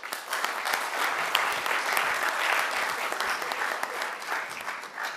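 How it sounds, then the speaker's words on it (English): Sustained applause from an audience at a city commission meeting, steady dense clapping filling the whole stretch after students are introduced, with no pauses. "Let's give them a round of applause."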